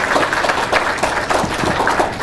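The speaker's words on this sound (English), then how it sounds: "So just a round of applause for" A training group in a meeting room gives a round of applause, steady dense clapping from many hands filling the space at a lively level throughout.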